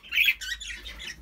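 A pet bird, kept among budgies, finches and canaries, gives a few loud, harsh squawks and chirps at close range over about a second, with no talking.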